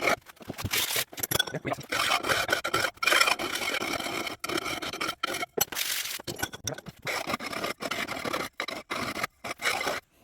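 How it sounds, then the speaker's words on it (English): A hand file rasps across the ground metal edges of a homemade shield in rapid back-and-forth scraping strokes, loud and close, with brief pauses between bursts. "So you're going to want to file that off."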